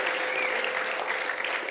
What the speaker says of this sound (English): So how about a round of applause for L and Letty, everybody.